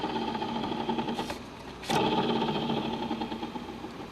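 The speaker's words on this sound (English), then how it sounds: "You can see the drive mechanism. Don't know if you can hear that." An 1980s Audiotronics stereo record player's drive mechanism runs with a steady mechanical whir and hum, close and continuous, with a brief louder click partway through.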